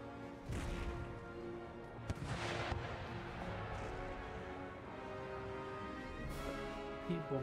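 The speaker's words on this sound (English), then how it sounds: "Keep bombarding." Artillery bombardment during an Empire Total War battle, scattered dull booms and cracks landing irregularly over a continuous rumbling battlefield din, moderately loud with a few sharper impacts standing out.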